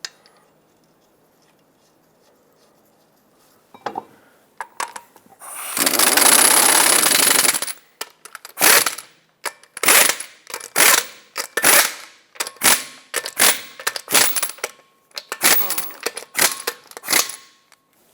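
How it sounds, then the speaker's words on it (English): Lug nuts on a Mazda 6 front wheel being run down by an impact tool, then a torque wrench clicking through a series of sharp, evenly spaced ratcheting bursts, close and loud in a quiet garage. "you want to torque these to 80 foot-pounds"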